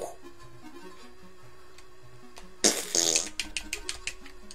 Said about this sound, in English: My knife doesn't kill him, the smell of my farts will.